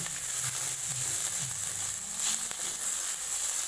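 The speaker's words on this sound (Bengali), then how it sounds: "পেঁয়াজ দিয়ে দিলাম।" Onion fries in oil with cinnamon and cardamom, producing a soft, even sizzle throughout, fairly faint, with light stirring touches and no speech.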